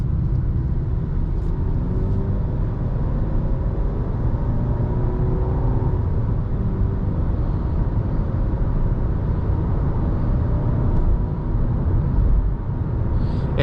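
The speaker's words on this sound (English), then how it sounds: "We'll try a more normal acceleration here." A 2020 Nissan Sentra compact car accelerates at a normal pace on a highway, with a steady low engine and road rumble holding constant from inside the cabin.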